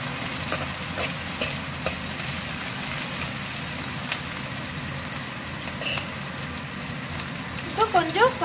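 Green chillies frying in hot oil in a pan: a faint, steady sizzle throughout, with a few soft stirring knocks and brief crackles toward the end.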